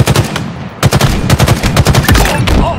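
Halo Infinite multiplayer gunfire, rapid loud automatic bursts and sharp shots in quick succession, close and dense throughout with brief gaps.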